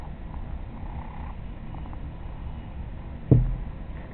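A house cat purrs softly up close, a steady low rumble that runs throughout, broken by a brief thump near the end.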